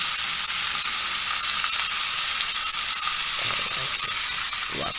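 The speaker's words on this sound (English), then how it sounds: "Let that fat sizzle and get in there" Pork fat sizzles loudly in a pan, a dense steady hiss with crackles that continues throughout and is close and dominant.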